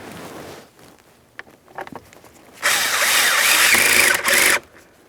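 A power tool drives a steering column mounting bolt snug on a 2015-2025 Ford Transit 250, a loud sustained whir of about two seconds after quieter clicks and handling noises, with no talk.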